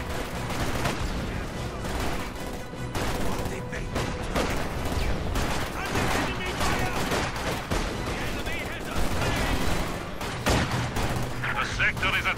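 Heavy battlefield gunfire in Company of Heroes 2, Soviet campaign, rattles in dense, overlapping bursts and booms throughout, with shouted voices mixed into the din.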